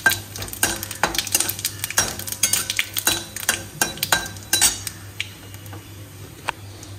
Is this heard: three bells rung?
no